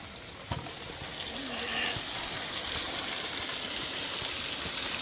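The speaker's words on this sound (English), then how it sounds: "that's a waterfall right here, and this is the mud bath right here" A waterfall near a mud bath at a villa rushes steadily in a broad, continuous wash, with a sharp knock near the start and a faint voice briefly audible.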